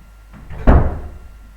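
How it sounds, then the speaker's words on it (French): An indoor door swings shut with a single solid thump, a short faint creak or shuffle just before it and a brief room tail after, with no talking. "J'allais fermer la porte pour qu'il y ait moins de bruit."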